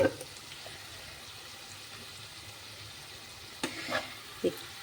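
Spices with salt and turmeric fry in a pan with a soft, steady sizzle. A few sharper scrapes and clatters of stirring come near the end, with no one talking.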